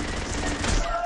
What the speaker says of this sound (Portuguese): Dá um tiro.